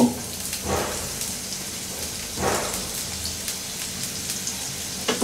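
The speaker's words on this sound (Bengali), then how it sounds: "আমি এখন একটা পাত্রের মধ্যে তেল গরম করে তার মধ্যে একটু পেঁয়াজ রসুন দিব" Onion and garlic hit hot oil in a pot with a loud, steady hissing sizzle that swells at a couple of moments as the pieces are moved around. No one speaks.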